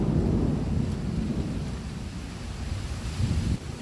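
A strong thunderstorm sets in with a steady heavy roar of rain and low rumbling thunder, continuous and loud, with some wind buffeting the microphone.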